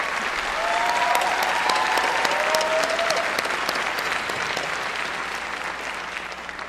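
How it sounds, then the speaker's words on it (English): A room full of people at a university commencement applauding steadily, a dense wash of clapping that holds strong and then gradually thins out toward the end. "Please join me in a round of applause for our esteemed faculty and staff"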